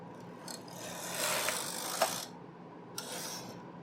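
Knitting machine carriage sliding across a row of needles on a crew neck sweater, a soft close rasping, ratcheting pass rising and fading, with faint clicks after, no voices.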